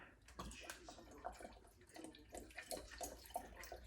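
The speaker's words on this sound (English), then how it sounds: "I'm gonna start off with some apple cider vinegar." Apple cider vinegar poured into a bowl as the base of a barbecue sauce for pulled pork, a close, steady liquid splash with small gurgles and clinks throughout.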